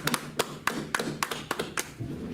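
A few people at a Wednesday class clap in a sparse, uneven rhythm, about eight distinct claps, fairly faint and close, with no talk over them.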